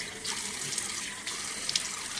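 A tap runs steadily into a sink while a face is washed, a continuous close hiss of water with small splashes and no talking.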